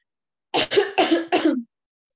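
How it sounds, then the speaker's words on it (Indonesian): A burst of four harsh coughs in quick succession, close and fairly loud, with no talking. "Sorry, aku agak batuk"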